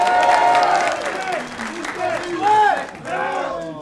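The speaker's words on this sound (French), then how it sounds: "Il s'est marié, on peut l'applaudir" A comedy club audience applauds a newly married man, a dense wash of clapping heard close while a performer keeps talking over it.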